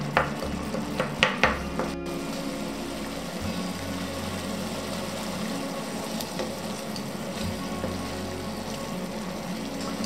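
Peeled tomatoes simmering in a pan for pasta alla norma, a steady soft sizzle and bubbling as the water cooks off, with a few clinks of a utensil near the start.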